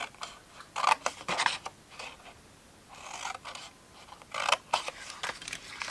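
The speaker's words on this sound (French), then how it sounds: "ce que l'on va faire, c'est qu'on va couper où on a marqué les plis" Scissors snip through paper along marked folds while a box is being made, a series of close, crisp cuts with brief pauses between them.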